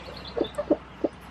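A mother hen named Ratchet, who hatched four chicks herself, gives a few soft, spaced clucks from a nearby box.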